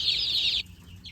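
High, shrill peeping from a crowd of newly arrived chicks in a farm brooder, a steady chorus that breaks off briefly and then resumes faintly.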